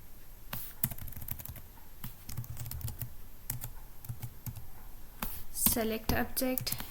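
Close clicking of typing on a computer keyboard, with bursts of rapid keystrokes and brief pauses, while someone talks over it.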